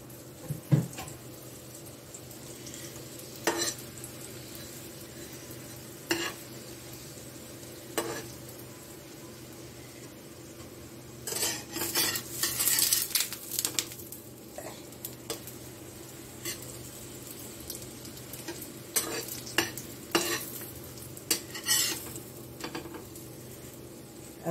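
Sweet potato paratha sizzling steadily in a pan, with scattered clinks and scrapes as it is flipped, and a busier burst of frying noise midway; no talking.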